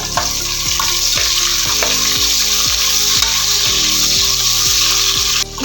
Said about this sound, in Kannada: ಈರುಳ್ಳಿ ಹಾಕೊಂಡು ಚಂದ ಬ್ರೌನ್ ಕಲರ್ ಬರುವ ಹಾಗೆ ರೋಸ್ಟ್ ಮಾಡ್ಕೊಳ್ಳೋಣ